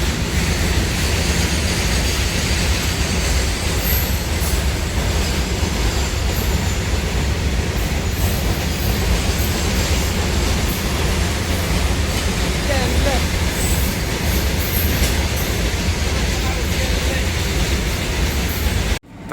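A train rumbles steadily into a station in Bhubaneswar, a loud continuous roar of wheels and cars with faint squeals and background noise throughout.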